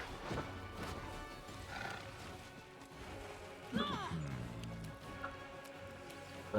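Horse sounds from the Pathfinder: Wrath of the Righteous video game, with hoof clatter and a brief rising whinny near the middle, mixed among game effects and background music.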